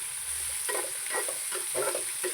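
Vegetables and tomato fry in hot oil for Maggi noodles, giving a steady close sizzle broken by repeated scraping stirs of the pan.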